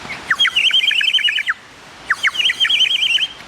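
A water-filled bird-call whistle produces two bright, warbling trills imitating bird song, each about a second and a half long with a short gap between, close and loud.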